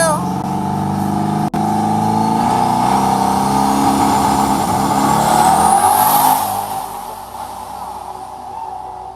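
Trent's nitrous-fed Camaro making a full drag racing pass at Yello Belly, a loud, steady engine roar that climbs in pitch as it accelerates, peaks around six seconds, then eases off and fades while a voice talks over it.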